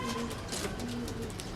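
A female Teddy pigeon coos softly against a dense background of other birds, with several cooing pigeons calling close by in a loft.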